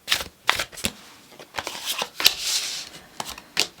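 Tarot cards shuffled by hand in a series of crisp riffling bursts and soft slaps, close and fairly loud, with uneven rhythm and brief pauses between shuffles during an Aquarius love reading.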